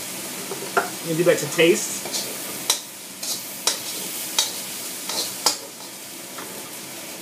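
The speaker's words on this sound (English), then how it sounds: "I'm going to add in some soy sauce" Pork fried rice sizzling steadily in a pan as soy sauce goes in, with repeated sharp spatula scrapes and taps against the pan, close and clear, while a person talks briefly.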